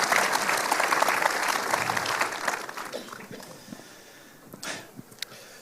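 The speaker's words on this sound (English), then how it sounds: "Give yourselves a round of applause." A live podcast audience claps and cheers loudly, the dense applause gradually thinning and fading over several seconds, with a few scattered claps and a brief burst of crowd noise near the end.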